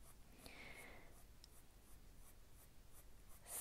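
Soft pencil lead strokes across paper in quiet short scratches and sweeps, a Prismacolor coloring pencil laying down color at close range without any talk.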